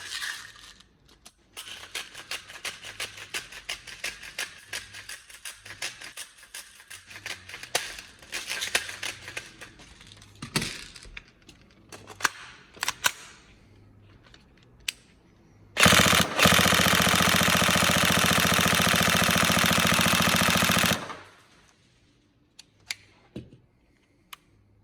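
A Tokyo Marui MP5 SD6 airsoft gun firing, starting with rapid clicking shots and bursts. One long loud burst lasts about five seconds, and a few scattered mechanical clicks come afterwards, with no voices.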